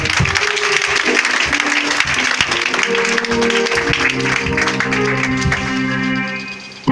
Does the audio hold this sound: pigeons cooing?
no